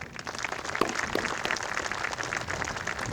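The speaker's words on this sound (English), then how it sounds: "Please give a round of applause to all of those that have added their names to the list." Outdoor applause from the crowd at a Memorial Day ceremony, moderate and somewhat distant, a continuous patter of many hands lasting a few seconds.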